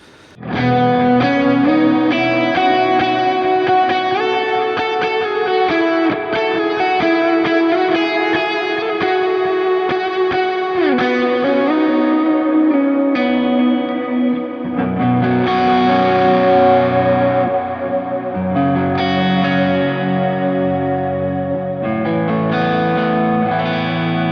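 Heavily distorted electric guitar plays continuously with thick, gritty chords and riffs, loud and sustained throughout with no talking.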